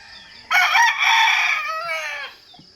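A rooster crows loudly and close, one long drawn-out call that rises then trails off, with quiet clucking around it.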